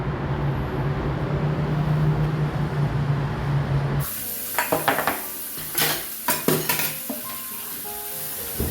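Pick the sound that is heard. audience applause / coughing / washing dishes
washing dishes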